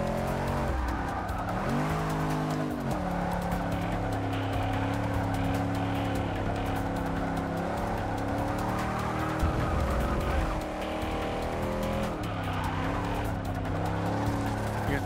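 A 1988 Holden VL Commodore Group A SV race car in Forza 6, its engine droning loud and steady with repeated tire squeals and skids as it works through corners, shifting pitch throughout.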